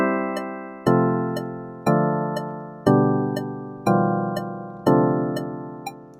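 Pedal steel guitar chords from the PSG Compass app, six sustained chord inversions struck about once a second, each ringing bright and full before the next attack, with no talking.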